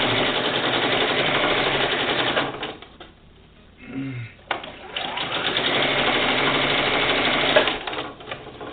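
A sewing machine stitching a fabric quilt border runs loud and fast at close range, stops for about two seconds, then hums steadily back into stitching.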